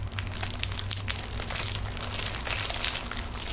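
Dried glued paper being slowly pulled apart at close range, a continuous crackling, crinkling rip with small sharp tears and crunches scattered through it, quiet and intimate without speech.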